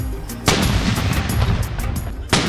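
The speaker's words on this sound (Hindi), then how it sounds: "31 तोपों की सलामी से दिन का आगाज़ हुआ" Ceremonial cannon salute fired for Pakistan Independence Day in Islamabad, part of a 31-gun salute: two sharp, loud booms about two seconds apart, each with a rolling echo over a constant crowd and outdoor rumble.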